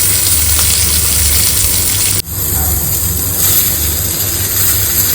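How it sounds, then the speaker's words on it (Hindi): Onion sautés in a pan in a home kitchen, giving a steady loud sizzle throughout. A sharp clatter breaks the sound briefly midway, then the frying continues unchanged. "अभी मैं प्याज को सौटे करती हूँ"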